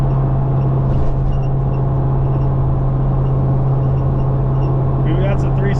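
A Dodge Charger Hellcat wagon with a 3.70 rear gear ratio drones heavily in high gear on the way to Friday night drags, a steady loud low engine hum from inside the car with a voice talking over it.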